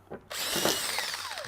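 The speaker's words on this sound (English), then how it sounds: "So we take a drill bit with a 1/4 inch bit and just drill through the areas" A power drill fitted with a 1/4 inch bit bores through thin wood, a close, steady whine that starts suddenly and runs on loud and even, with the pitch sliding downward toward the end.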